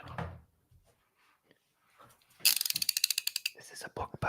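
A screwdriver ratchets in a quick burst of about a dozen close, sharp, rapid clicks, preceded by quieter handling noises and faint murmured talk.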